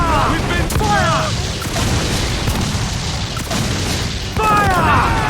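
Ship cannon fire from a naval battle in Assassin's Creed IV Black Flag, with loud booming volleys at the start and again near the end under shouting crew voices and a steady roar of sea and battle.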